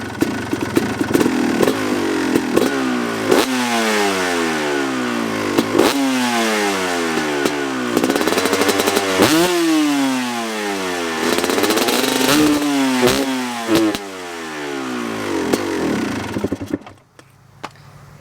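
A Kawasaki KX250 dirt bike with its silencer fitted revs hard and close, with repeated sharp throttle blips that rise and fall in pitch, several longer climbing revs, and then a sudden cut to near silence.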